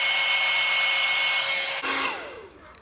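A hair dryer blows hair with a loud, steady whooshing whine and a high tonal hum, then switches off abruptly and winds down to quiet.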